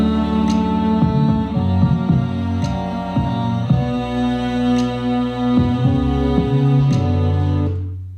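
A pop beat with a bowed classical cello melody over sustained bass notes and regular kick hits, the cello staying level with no sidechain pumping, running continuously without vocals.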